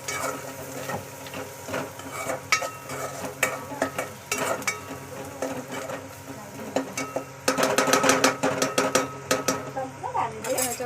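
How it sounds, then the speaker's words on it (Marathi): Young jackfruit pieces and onion in a Konkan-style vegetable curry are stirred with garam masala in a frying pan, giving a steady scraping stir over a soft sizzle with brief clinks that grow busier near the end. "आणि परत गरम मसाला छान मिक्स करून घ्यायचं"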